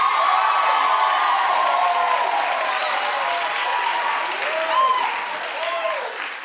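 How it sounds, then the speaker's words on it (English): A television talk-show studio audience claps and cheers loudly, a dense wash of applause with whoops rising over it, sustained throughout and fading slightly toward the end. "Clap if you don't give a damn."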